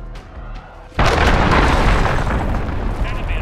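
A cruise missile explosion in Call of Duty: Modern Warfare strikes after a quiet moment: a sudden loud, deep blast followed by a long, heavy roaring rumble that stays strong to the end.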